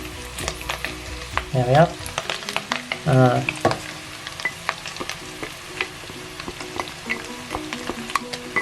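Onion, carrot and garlic sizzle in a pan for shepherd's pie, a close frying hiss with sharp clinks and stirring scrapes, and a voice speaks briefly over it.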